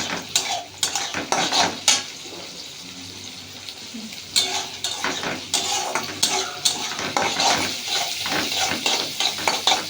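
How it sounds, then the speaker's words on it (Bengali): Chow mein is stir-fried in a pan as an evening snack. A spatula scrapes and clinks against the metal in quick bursts over a continuous oily sizzle, close and fairly loud, with no voices. "সন্ধ্যায় টিফিন বানাচ্ছি চাউমিন"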